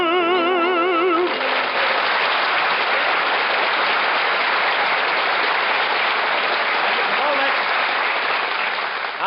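A radio show studio audience breaks into loud, steady applause that fills the room, following a brief musical sting, and holds at full strength for the rest of the stretch.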